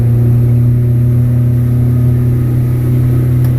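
A boat's outboard motor runs loud and steady close by, a strong low droning hum with a constant pitch throughout.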